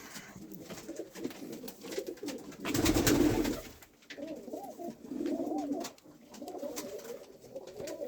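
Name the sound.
pigeons cooing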